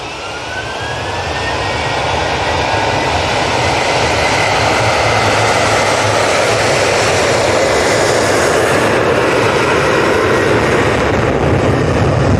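Ryanair jet airliner taking off from Manchester Airport, a loud, broad roar that swells within the first seconds and holds powerful and close throughout, with no talking.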